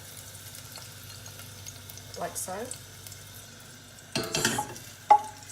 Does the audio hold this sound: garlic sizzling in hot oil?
yes